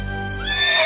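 A horse neighs loudly and close, a short bright whinny that rises and wavers over under a second.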